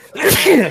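A single short, loud sneeze bursts out close by, immediately followed by a muttered word.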